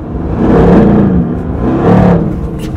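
A Mercedes-AMG GT R Pro with a 577 hp twin-turbocharged V8 roars close by, its deep exhaust rising and falling through two loud revs, with no talk over it.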